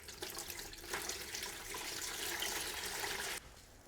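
Tap water runs steadily into a bowl for mixing sourdough dough with starter, a close, continuous splashing rush that stops abruptly near the end.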